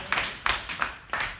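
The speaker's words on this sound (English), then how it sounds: "huge round of applause" A classroom audience claps after a student's presentation, a short burst of a few loud, close, uneven claps.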